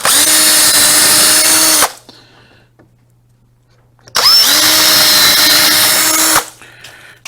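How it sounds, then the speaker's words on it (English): A power drill bores a pilot hole into wood while building a cornhole board from 2x legs, two loud steady bursts of whining motor and cutting, each about two seconds, separated by a quiet pause. "That's a little pilot hole, and countersink it again."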